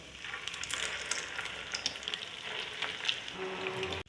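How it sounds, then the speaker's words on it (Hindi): Egg-dipped chicken and potato cutlets shallow frying in oil, a continuous crackling sizzle with scattered pops, steady and close, cutting off abruptly at the end. "बिल्कुल शैलो फ्राई होगा"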